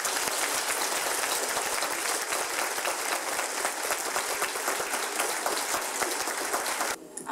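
Dense, steady applause from an indoor audience welcoming a guest onto a stage at a Korean commemorative talk event, sustained and fairly loud for about seven seconds before cutting off abruptly at the end.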